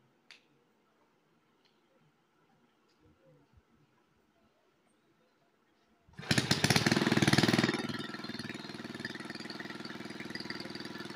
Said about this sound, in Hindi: अभी देखिए इंजन स्टार्ट हुआ